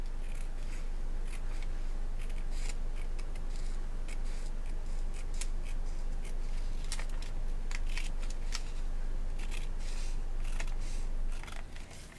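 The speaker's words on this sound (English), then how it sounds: "Just take the scissor and carefully cut across." Scissors snip steadily across paper for an A5 planner page, crisp close cuts repeating throughout, with no talking over them.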